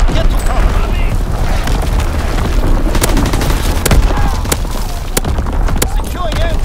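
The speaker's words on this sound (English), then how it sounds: "Incoming enemy artillery." Artillery explosions in the Call of Duty WWII multiplayer game, with repeated loud booms and sharp cracks over a dense, continuous battlefield rumble and background voices.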